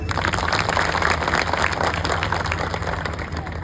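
A large audience applauds police officials at a public event in India, with sustained, dense clapping that holds steady at full volume throughout.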